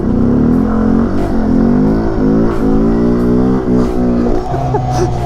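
A motorcycle engine revs loudly and steadily while the rider holds a wheelie, the pitch rising and falling with throttle changes in a continuous close roar.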